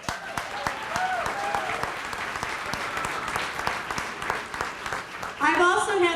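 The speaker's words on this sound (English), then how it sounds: "So give yourselves a big round of applause." Audience at an elementary school closing ceremony claps loudly and steadily in a dense burst of applause, with voices and cheers rising near the end.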